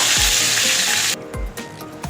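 Pieces of young green jackfruit fry in oil with a loud, steady sizzle that cuts off abruptly, followed by scattered scrapes and clinks of a spatula against the pan.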